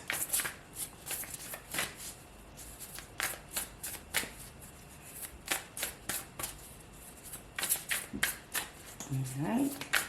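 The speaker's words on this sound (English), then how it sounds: "The cards have been shuffled and cleared." Tarot cards riffle and shuffle in repeated bursts, close and crisp, with soft tapping between; a voice briefly murmurs near the end.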